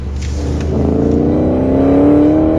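A car accelerates hard during a chase, the engine note rising steadily in pitch and loudness into a close, whining rev, with a faint whoosh near the start.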